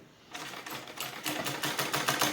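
A simple sewing machine runs steadily, stitching along suit fabric with a fast, even mechanical chatter that grows slightly louder as it goes, close by and without speech.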